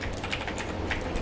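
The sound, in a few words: typing on a computer keyboard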